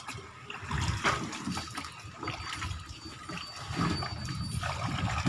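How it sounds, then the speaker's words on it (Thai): Shower water running steadily in a bathroom, a continuous splashing hiss with shifting intensity, fairly close and alone without talk. "เดี๋ยวอาบน้ำก่อน ผมอาบน้ำก่อน"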